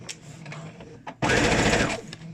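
A sewing machine stitches elastic onto a home-made fabric mask, starting after a moment of quiet handling and then running in a fast, steady burst of close, rapid mechanical stitching.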